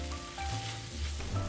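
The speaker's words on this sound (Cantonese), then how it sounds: "放埋個米粉落去之後，就可以轉大火炒佢啦" Rice vermicelli stir-frying over high heat in a wok for Malaysian Nyonya mee siam, a steady close sizzle with occasional stirring scrapes and no talking.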